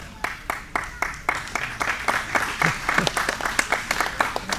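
Audience applause ringing out for a guard player's work in a grappling match, a steady run of many hands clapping that builds and grows denser, with voices murmuring underneath.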